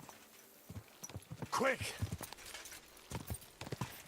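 Hooves of a horse in Kingdom Come Deliverance II, soft irregular clip-clop footfalls heard close beneath a voice, which briefly calls out over them.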